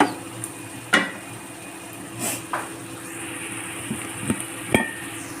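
Aloo palak gravy simmers in a pan with a soft bubbling hiss, broken by a few sharp clinks of a utensil against the pan.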